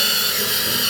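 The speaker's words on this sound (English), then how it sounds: "So I'm using a Forstner bit on this." Steady high-pitched whine of a Forstner bit boring a 1-inch hole, sized to fit a hose, loud and close with no pauses across the short moment.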